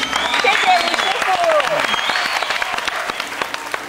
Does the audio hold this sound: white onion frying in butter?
no